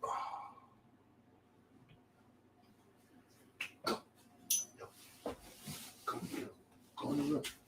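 Dogs indoors scuffle and snort with rubbing, scraping and short bursts of movement noise, growing busier and louder toward the end after a quiet start.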